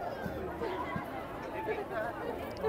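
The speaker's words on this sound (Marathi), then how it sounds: "आणि इथे खूप गर्दी आहे." Crowd at the Kal Bhairav temple in Ujjain, a busy murmur of many voices chattering nearby at a moderate level, with footsteps and general bustle.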